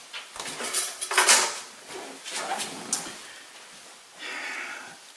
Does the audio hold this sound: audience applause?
no